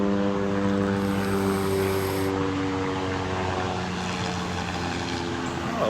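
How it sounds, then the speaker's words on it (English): Helicopter rotor and engine drone fly overhead as a steady, loud, continuous mechanical roar with a pulsing low-end chop that holds throughout without any talk. "we got helicopters flying around this motherfucker"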